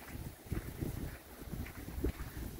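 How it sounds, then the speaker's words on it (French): Gusty wind blows steadily beside the pink salt lake, rumbling and buffeting nearby in uneven surges with no voices over it. "S'il n'y avait pas ce vent..."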